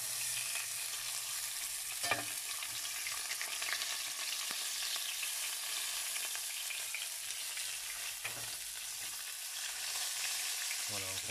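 A salmon fillet fries skin-side down in a pan, giving a steady, soft sizzle and crackle with an occasional faint clink of a utensil, heard alone without talk.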